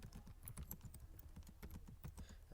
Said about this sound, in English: And then of course you can start typing